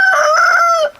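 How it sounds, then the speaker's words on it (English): A rooster on an Indian homestead farm gives a loud, close crow lasting about a second, a steady drawn-out call that cuts off abruptly. "So rooster won't shut up."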